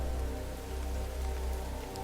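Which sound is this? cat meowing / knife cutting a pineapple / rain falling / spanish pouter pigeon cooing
rain falling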